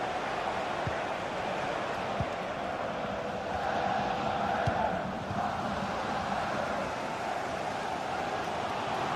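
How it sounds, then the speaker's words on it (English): Stadium crowd in a football video game, a dense, steady roar of cheering and chanting that holds at a constant level for the whole stretch, with no talk on top. "the crowd is certainly trying to motivate the team to push them forward to get the equaliser"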